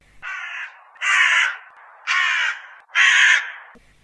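A crow gives four loud, harsh caws spaced about a second apart, each a rasping burst heard close and alone against silence.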